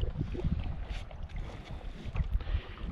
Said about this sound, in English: Pretty windy today, so we're getting a bit of help here.